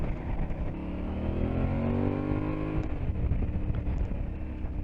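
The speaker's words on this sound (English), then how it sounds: "we'll put some fuel in and we'll throw the bike around some bends" Aprilia Tuareg 660 motorcycle being ridden through bends, a continuous engine drone with rising and falling tones as it accelerates, under steady wind rush.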